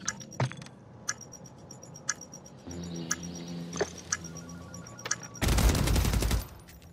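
Gunfire in a first-person shooter game: spaced single shots crack out near and sharp, then a dense, loud automatic burst runs for about a second before cutting off.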